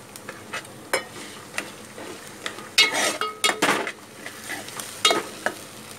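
Tomatoes go into a pan of frying cabbage and chana dal bhaji, followed by scattered close clinks and spatula scrapes, with a louder cluster of stirring in the middle over a light sizzle.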